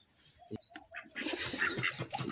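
Pigeon calls and fluttering amid a busy mix of other birds at a small home zoo, close by, fairly loud and continuous.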